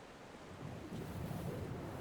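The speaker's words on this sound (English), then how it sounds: "You can actually hear the waves and the wind and the music when it's there and everything." Ocean waves and steady wind on a coastline in the video game Dear Esther, a broad continuous wash of surf swelling slightly louder partway through, with no voices.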